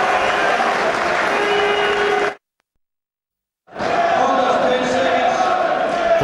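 A boxing crowd in Edinburgh at a British featherweight title fight keeps up loud applause and cheering, cut off by a gap of total silence before the noisy roar returns.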